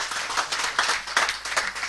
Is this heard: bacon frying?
no